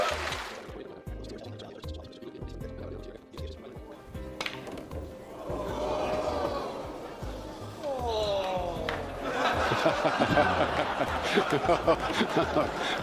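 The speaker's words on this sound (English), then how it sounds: "There was a moan out of the crowd" A crowd watching Efren Reyes play Dallas West at pool lets out a broad, rising moan that swells over the second half, mixed with murmurs and chuckles under continuous commentary.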